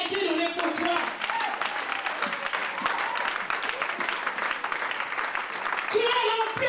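A church congregation applauds during a French-language sermon, with steady, full clapping that holds at an even level throughout and rises again near the end, with voices mixed in.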